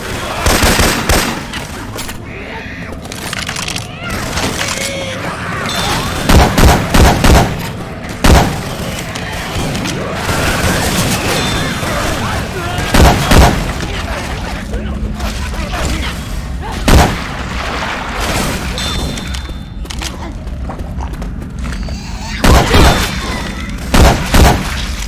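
In Left 4 Dead 2, weapons with Syphon Filter sound effects fire loud repeated shots, some in rapid bursts and some as single booming blasts, over a busy game soundscape.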